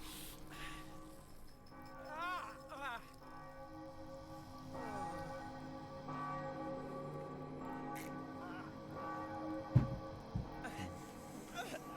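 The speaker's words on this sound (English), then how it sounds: "church bell thing." A church bell tolls in the Spider-Man 3 Xbox 360 game, its clanging strikes faint and distant beneath someone talking over it throughout.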